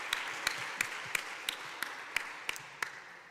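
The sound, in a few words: audience round of applause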